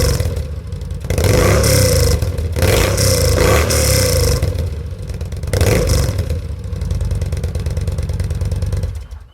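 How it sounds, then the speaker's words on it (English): A 2013 Yamaha V Star 950 on its factory exhaust idles with a low, even rumble, then revs up in several loud throttle blips that rise and fall before settling back to idle, recorded close. "Factory exhaust, idle and rev up"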